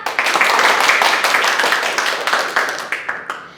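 Audience applause for children's stage performers, a dense, loud burst of many hands clapping that holds steady and then thins out toward the end.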